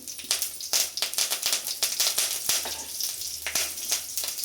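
Mustard seeds, dried red chilies, slit green chilies and curry leaves sputter in hot oil, a dense crackle of rapid pops and bursts, loud and close, with no voices.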